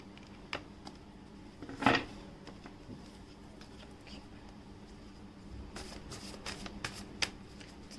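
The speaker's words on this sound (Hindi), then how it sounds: "शफल भी कर लेती हूँ" Tarot cards being shuffled by hand in a quiet room, soft riffling and slapping in scattered bursts with one sharper riffle early on, faint and close.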